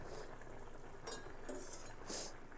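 A spoon stirs chicken curry in a pot, giving a few soft scrapes and light clinks against the metal over a faint background hiss.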